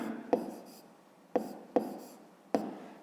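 A pen writes on paper while segment names are noted down for a fifth-grade math exercise. Four distinct short taps come at uneven intervals, each followed by a brief scratchy stroke, quiet and close.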